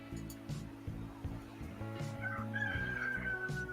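A rooster in a backyard crows once near the end amid a busy mix of other fowl, including turkey-like gobbling and clucking, close and moderately loud, with low steady background hum.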